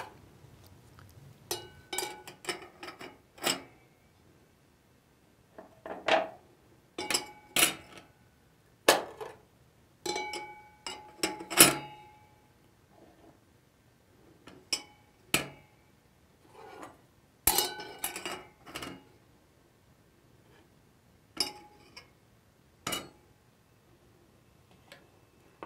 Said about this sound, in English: Place a friction in. Install the other plates.